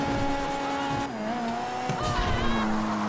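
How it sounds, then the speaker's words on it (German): A car engine revs with shifting pitch in the video game GTA 5, steady and close, with tire squeal and racing tones layered over the continuous drone. "Wie auch der Motor einfach dreht."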